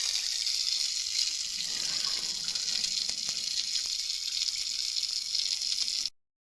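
A water tap runs steadily with a constant hissing gush, close and even for about six seconds before cutting off abruptly into silence, used as a sound effect in a narrated story.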